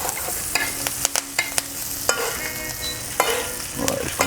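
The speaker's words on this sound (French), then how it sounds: "Ouais, je continue à arroser." Roasting hake fillet being basted in a pan with garlic and wild thyme: bright spitting sizzle punctuated by several sharp spoon clinks and scoops of hot fat, close and moderately loud, no voices.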